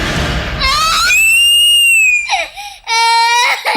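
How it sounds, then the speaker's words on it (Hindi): A young child screams and wails loudly after falling to the ground, sustained high-pitched cries with a short break before another loud burst, close and alone. "वह बच्चा जमीन पर गिरते ही जोर जोर से चिल्लाने लगा।"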